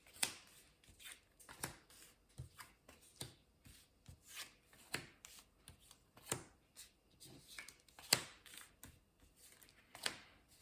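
Tarot cards shuffled by hand for a 13-card spread, a close run of quick riffling and rubbing bursts repeating unevenly through a quiet room, no talking.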